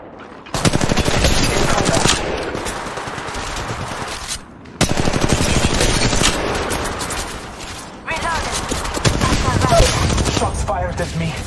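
Sustained automatic gunfire from Apex Legends Mobile, dense and loud, in three long bursts separated by brief pauses near 4.5 and 8 seconds, with rapid shots layered over one another.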